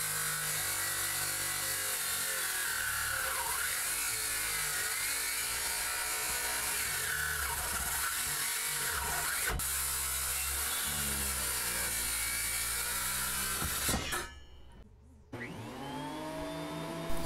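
Power tool cutting a wooden boat plank to length for a backyard-built boat's bowsprit, a loud sustained whine running for about fourteen seconds before winding down, followed by quieter workshop noise.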